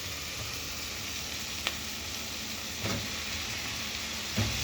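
Food sautéing in a pan, a steady, moderately loud sizzle running throughout, with a few brief utensil knocks and scrapes breaking in now and then, no talking.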